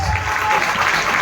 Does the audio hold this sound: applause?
yes